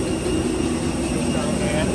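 An airplane gives off a loud, continuous engine drone that holds steady throughout, with faint voices murmuring beneath it.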